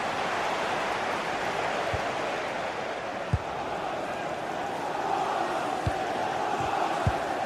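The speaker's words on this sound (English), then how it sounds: "The crowd certainly think so. Just listen to them." Stadium crowd in a football video game, a steady broad roar of cheering and noise filling the whole clip, with a few brief low thumps standing out over the constant wash.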